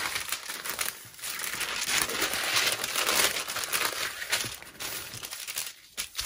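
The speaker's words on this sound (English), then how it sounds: "it's just a sheet of baking paper" A sheet of baking paper crinkles and rustles continuously, fairly close, in uneven bursts of crisp crackling, while used in pressing a heat transfer vinyl shirt.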